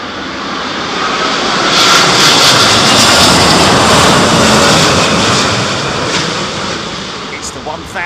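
An Airbus A350-1000 landing at Heathrow in stormy, windy weather, its loud jet engine roar building to a peak mid-pass then slowly fading, with wind gusts in the background.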